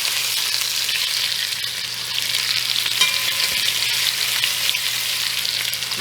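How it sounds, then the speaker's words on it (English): Small pork rib pieces browning in a hot Dutch pot give off a loud, continuous, even sizzle up close, with a brief disturbance midway as the pieces shift. "we're going to throw them in my trusty Dutch pot and just brown them off really quickly"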